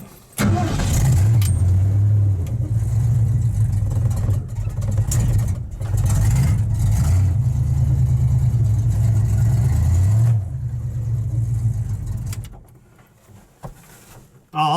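A Ford Ranchero on its first drive after an interior dye job, engine running loud and near as it drives around the block, revving and easing off in stretches before dropping away, with brief keys jangling.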